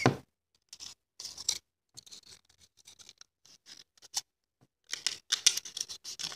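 A pair of scissors snips through paper in quick, irregular bursts of crisp clicks and slicing strokes, close and fairly loud, with short pauses between the cuts.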